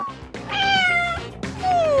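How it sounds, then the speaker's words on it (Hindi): A cat meows loudly and close by, giving two drawn-out, wavering cries, each falling in pitch, with a short pause between them. "कितनी प्यारी बिल्ली है।"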